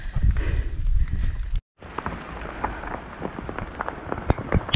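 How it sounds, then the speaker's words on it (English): Hail patters on a steep mountain trail in the Drakensberg Amphitheatre during a storm, a dense spray of sharp ticks and clicks near the listener, cut by a brief silent break before the pelting resumes. "It is hailing on us."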